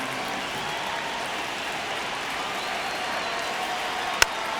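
Baseball stadium crowd in MLB The Show 26 gives off a steady broad murmur and hiss of many distant voices, even and sustained, with one sharp click near the end.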